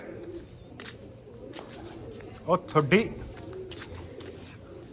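Pigeons coo in a short, soft cluster of low throaty calls near a trapping net, with someone talking and other voices around them.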